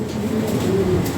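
Fancy pigeons kept in pairs for sale coo in a low, continuous murmur, close and steady throughout a very short moment.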